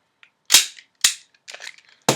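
Airsoft M1911 gas blowback pistol firing four sharp, loud shots at an uneven pace, the third softer and rattlier, with a faint click just before the first.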